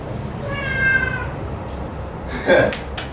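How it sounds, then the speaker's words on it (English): A cat meows twice, a drawn-out mew followed a little later by a shorter one, close by over a low steady background hum. "Hey kitty, what are you doing, kitty?"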